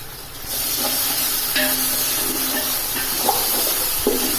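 Ginger garlic paste sizzling in a pan with onions, cooked for a country chicken dum biryani: a steady, close frying hiss that holds at an even loudness throughout, with no voices.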